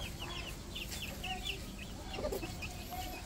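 Chicks and chickens in a poultry house, many soft clucks and peeps overlapping in a continuous busy chatter against a low room rumble, no talking.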